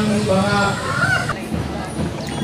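Chickens and a Brahma rooster at a poultry expo in Santa Catalina, Negros Oriental, heard as scattered clucks and calls beneath someone speaking steadily throughout.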